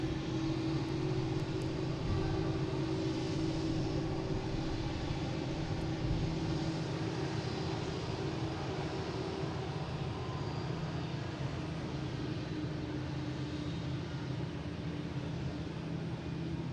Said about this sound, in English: We have a JetBlue coming in from Detroit, an A320, flight 13.